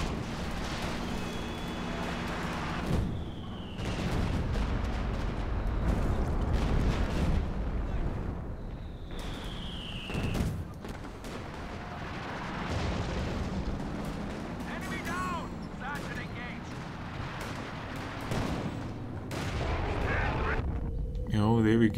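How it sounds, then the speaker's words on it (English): Rocket artillery in a Company of Heroes 2 3v3 battle: heavy, continuous barrages of booming impacts and rushing launches roll through the whole stretch, with whistling rockets streaking in and layered gunfire, loud and dense from start to finish. "It's never gonna survive all the rocket artillery."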